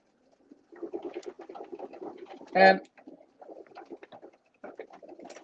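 Pigeons coo steadily in a loft during a trapping session, a soft continuous burble with one louder, harmonically rich call near the middle, while a voice speaks intermittently over the birds.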